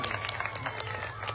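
A crowd claps at an Aam Aadmi Party political rally in Gujarat, a short burst of dense applause heard from a distance, with a steady low hum beneath.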